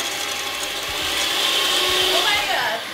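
A bullet blender whirs steadily while blending egg yolks for eggs Benedict, a continuous loud motor drone with a slight grinding rattle running throughout.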